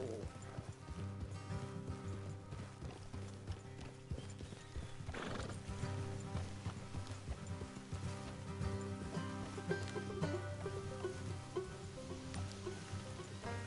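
Horse hooves clip-clop steadily throughout in the video game Red Dead Redemption 2, joined by several loud neighs and whinnies over a dense, continuous outdoor background.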